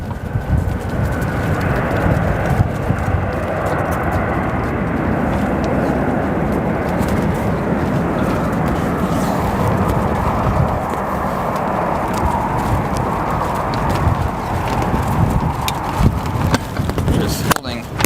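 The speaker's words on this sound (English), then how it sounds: "Wind's certainly picking up here at O'Hare at the moment" Strong wind buffets a microphone outdoors at O'Hare airport, a loud, steady roaring rumble that runs unbroken for the whole stretch.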